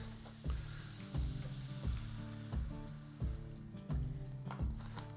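Vegetable broth poured into a hot pan over seared venison crust hisses and sizzles steadily, with a rhythmic stirring or scraping pulse underneath, close and continuous.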